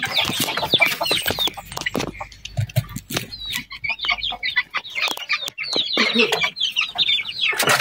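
Backyard pet chickens clucking close by, a steady run of short, overlapping clucks and calls with brief pauses, no talking.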